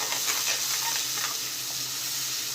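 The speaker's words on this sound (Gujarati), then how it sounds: "અને ધીમા ગેસ પર આ મસાલાને આપણે સાતળી લઈશું" Masala gravy for masala chana sautéing in a pan over a low gas flame, a soft steady sizzle and hiss with faint stirring scrapes, close and quiet throughout.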